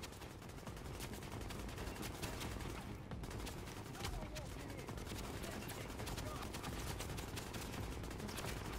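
Rapid gunfire in The Division, continuous bursts of automatic shots crackling throughout, with a voice talking faintly beneath the din.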